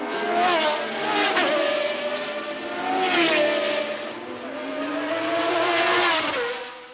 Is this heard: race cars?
yes